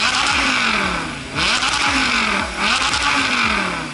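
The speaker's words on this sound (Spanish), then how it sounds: "necesitas el sonido por lo menos de ese motor, y ese B10 lo hace bastante bien" An Audi R8's V10 engine revs hard and loud, the pitch climbing and falling in repeated sweeps with throttle blips between pulls, heard up close with no talk.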